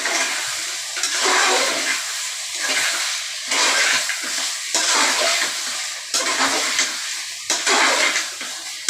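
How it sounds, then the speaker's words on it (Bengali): Mutton being stir-fried dry in a pan for kosha, a steady broadband sizzle broken by repeated scraping stirs roughly every second or two, close and fairly loud with no talking. "এবার এই জলটা ভালো করে শুকনো করে কষিয়ে নেবো।"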